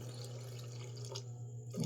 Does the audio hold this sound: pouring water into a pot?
yes